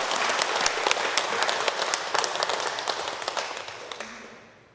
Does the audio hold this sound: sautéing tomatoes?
no